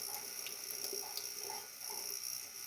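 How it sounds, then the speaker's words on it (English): Water sprays steadily out of a Berkey water filter element as it is rinsed under a tap, a continuous hissing flow with faint clicks, close and even throughout. "it's just water coming out"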